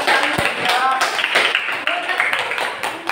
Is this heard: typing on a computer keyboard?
no